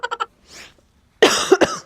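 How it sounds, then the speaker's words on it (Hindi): A woman with a sore throat, in a Hindi family comedy sketch, gives three quick rasping coughs and a breathy pause, then a louder burst of heavy coughing close to the microphone. "खांसी भी बहुत लगी हुई है।"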